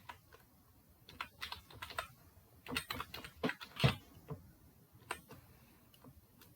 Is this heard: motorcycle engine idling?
no